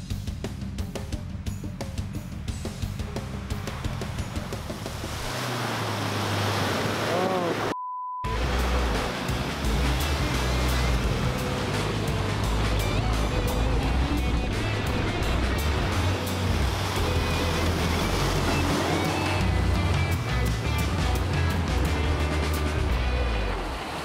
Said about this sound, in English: Got to do the creek crossing again on the way out